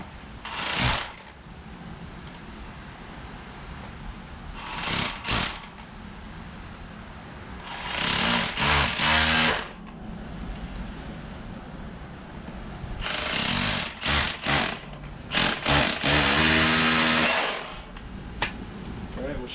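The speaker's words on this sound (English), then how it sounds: "Go ahead and drive it in a little with the rotary hammer." A rotary hammer drives a grade stake, with loud bursts of rapid mechanical hammering in short intermittent runs over a low background rumble, with quiet gaps between them.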